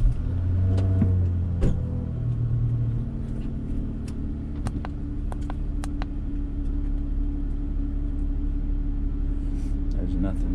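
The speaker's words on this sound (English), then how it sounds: "Car is running." Car engine idling steadily after starting during an OBD2 scanner diagnostic check, a low continuous rumble close by, with occasional clicks and brief talk over it.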